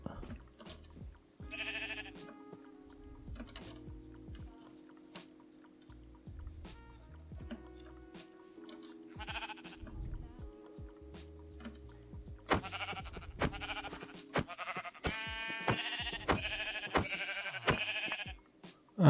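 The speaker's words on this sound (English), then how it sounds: "So as you damage the sheep" Blocky Minecraft sheep bleat repeatedly in short, nasal cries, several calls spread across the stretch, with soft game sounds and clicks between them and no talk.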